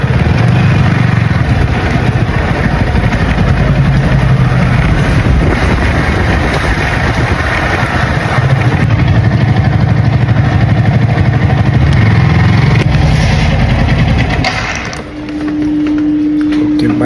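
A motorcycle engine runs loud and close at a steady idle while being parked in a garage, its rumble continuing unbroken before dropping and shifting near the end.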